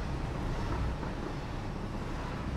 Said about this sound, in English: The train does get a little loud though